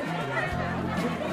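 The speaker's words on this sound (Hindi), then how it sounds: "सब्जी मंडी में घुसा दिया है मुझे इतनी भीड़ में" Crowd chatter and babble in a busy vegetable market, with many voices mingling close around and a steady hubbub over the whole stretch.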